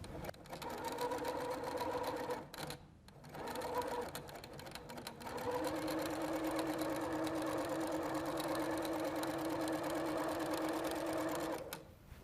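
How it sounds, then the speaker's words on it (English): A sewing machine stitches a quilt seam with a quarter-inch seam allowance, a steady close-up mechanical whir that pauses briefly twice before running on evenly. "we're going to sew on both sides of that line"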